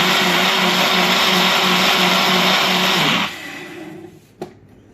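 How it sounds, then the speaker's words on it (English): An electric blender (liquidizer) whirs loudly and steadily as it blends a mixture with its lid fitted tight, the motor holding a constant drone for about three seconds before cutting off, followed by a short clunk. "Make sure when you put in the top of your liquidizer on, or your blender, that it's on nice and tight"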